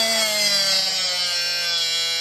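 A drill bit sharpener runs with a steady, high-pitched motor whine that holds at an even level for a couple of seconds, close by and alone.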